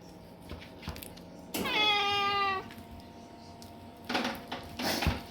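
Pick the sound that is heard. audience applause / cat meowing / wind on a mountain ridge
cat meowing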